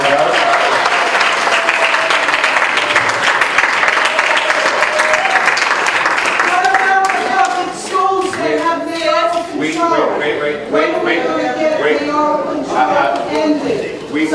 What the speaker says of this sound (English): Let's give our public advocate, Letitia James, a round of applause and thank her.